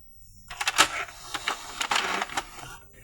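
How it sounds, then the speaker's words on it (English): An Epson L120 inkjet printer prints a nozzle check sheet: a burst of rattling, clacking mechanical strokes as the print head moves, starting abruptly and lasting about two seconds before winding down. "The printer will now print the nozzle check sheet again."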